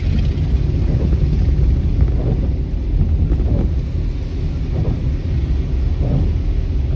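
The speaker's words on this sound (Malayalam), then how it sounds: "നല്ലൊരു മഴ" Heavy early-morning rain over Manjeri town gives a dense, continuous low roar with wind buffeting the microphone, loud and unbroken throughout with no talk.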